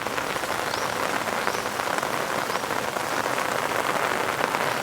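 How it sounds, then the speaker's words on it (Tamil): Heavy rushing water near Manimutharu dam after heavy rain, a dense, steady broadband roar with no pauses, loud and close with no voices over it. "தண்ணி பாருங்கள் எவ்வளோ ஃபோர்ஸாக போயிட்டுருக்கு"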